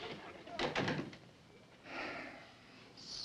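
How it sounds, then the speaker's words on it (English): A household door swings shut with a soft thud and brief rattle, moderately close and muffled in a quiet interior room, followed by low room noise and a faint voice. "Larry, would you mind closing the door on the way out?"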